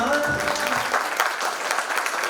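An audience at a school annual function claps for a pre-primary children's performance, a dense, sustained round of applause at moderate distance, with a voice audible briefly at the start.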